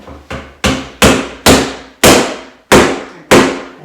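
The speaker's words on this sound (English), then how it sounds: "Yeah, hammer that in, because it's not going." A hammer strikes hard during makeshift pantry construction, landing seven loud, sharp blows at a steady, slightly uneven pace, each ringing briefly before the next hit, with no talking.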